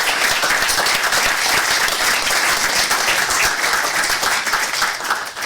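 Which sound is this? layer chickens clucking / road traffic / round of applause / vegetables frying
round of applause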